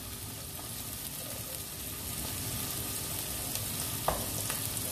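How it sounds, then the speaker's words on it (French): Minced meat and tomato simmer in a pan with a steady close sizzle and bubbling hiss, broken by a brief faint scrape or stir near the end. "On laisse mijoter 1 minute."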